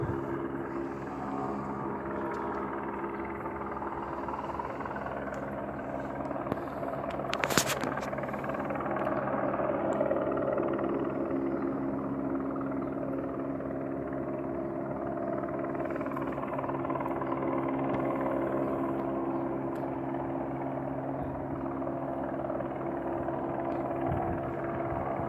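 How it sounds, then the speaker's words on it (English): A helicopter hovers above a city building, a continuous low rotor drone that stays steady and moderately loud for the whole stretch, with one brief sharp noise early on. "Look at this fucking stupid ass helicopter."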